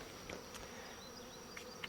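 A honey bee swarm hangs in a tree and gives off a steady, low buzzing hum from many insects, fairly faint and continuous, with a couple of brief sharper sounds standing out.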